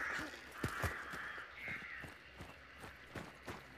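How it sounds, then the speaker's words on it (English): Crows caw and flap away in Hunt: Showdown, harsh calls rising over a layer of footsteps and rustling, with a few louder sharp bursts early on and softer ones trailing off. "there go the crows"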